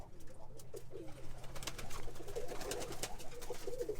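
Birmingham roller pigeons give soft, low, repeated cooing close by as one bird flies in to the loft. The cooing grows busier and louder toward the end over a quiet outdoor background.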